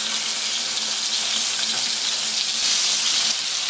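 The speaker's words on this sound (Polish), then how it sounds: "Pulpeciki nam się smażą" Meatballs frying in a pan give a steady, bright sizzle with crackling spatter throughout, loud and close, with no talk.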